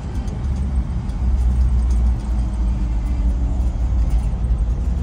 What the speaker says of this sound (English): C7000 boom truck, split shift, 366 big block